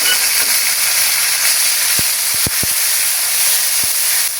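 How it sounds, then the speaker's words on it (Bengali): Red amaranth greens fry in hot oil with cumin, giving a loud, continuous sizzle and hiss throughout, broken by a few sharp pops near the middle. "ফোড়নের জন্য শাকগুলো আমি তেলের মধ্যে ঢেলে দিচ্ছি"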